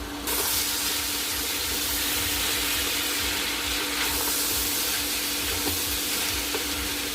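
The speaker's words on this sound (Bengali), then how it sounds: "এর ভিতরে এবার মটরশুঁটি বা কড়াইশুঁটি এগুলো দিয়ে আবার এটাকেও ভেজে নেব।" Carrots and green peas fry in a pan with a steady, close sizzle that holds at an even level for about seven seconds, with no voices over it.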